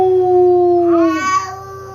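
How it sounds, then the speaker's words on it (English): A dog gives a single loud, close howl on command, a long steady tone that bends upward and trails off over about two seconds. "Let's make Dancler howl."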